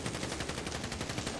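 Rapid gunfire crackles in a video game roleplay, a dense, continuous burst of shots at steady loudness.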